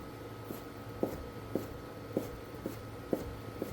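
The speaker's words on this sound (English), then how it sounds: "So all I want to do is just cut this into some fairly thin pieces." A knife cuts Spanish chorizo into thin slices on a board, giving about seven soft, evenly spaced knocks roughly half a second apart, fairly quiet over low room noise.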